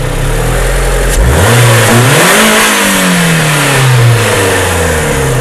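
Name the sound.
engine running and revving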